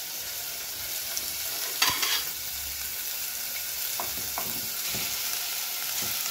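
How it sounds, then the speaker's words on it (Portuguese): Meat for hot dogs fries in a pan with a steady, fairly quiet hiss, with a few stirring scrapes and clanks breaking through the continuous sizzle. "Agora eu vou colocar a carne para já ir esquentando."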